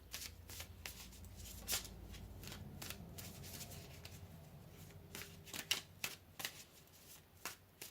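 Tarot cards being shuffled by hand, a steady run of soft riffling and flicking bursts with sharper snaps near the end, close and fairly quiet with no talk.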